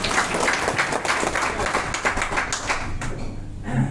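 Audience applause at an Overnet direct-selling meeting in Naugachia, Bhagalpur: a dense, steady wash of many hands clapping for about four seconds, fairly loud and continuous, with a few voices mixed in.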